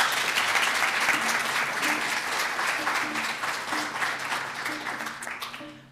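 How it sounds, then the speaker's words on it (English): Sustained applause from an audience at a health communication awards presentation, dense even clapping that gradually fades out, with faint background music or tones running beneath it. "So big round of applause."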